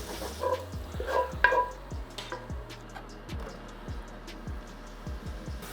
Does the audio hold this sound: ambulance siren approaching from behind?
no